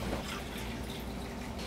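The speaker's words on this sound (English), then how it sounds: "And to that we're going to add the same amount of filtered water." Filtered water pours into vinegar in a saucepan for pickling carrots and daikon, a steady, close liquid wash with faint dripping throughout.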